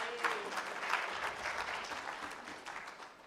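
An audience at a women's economic forum in Kenya applauds a speaker. The clapping is brief and fairly faint and tapers off over a few seconds.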